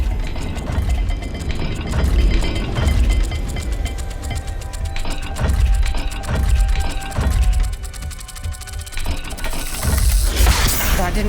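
Mechanical clicking and ratcheting as a puzzle dial turns in the video game Hogwarts Legacy, with gear-like clanks and a steady whirring layer, fairly loud and continuous throughout.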